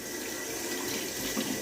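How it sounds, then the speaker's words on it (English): Water runs from a kitchen tap into a cooking pan, a steady close hiss of flowing water lasting under two seconds. "Now, we need water for our pan."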